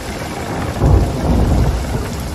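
A heavy thunderstorm at sea in the pirate video game Sea of Thieves: steady loud rain and wind with deep rolling thunder that swells midway, with no voices.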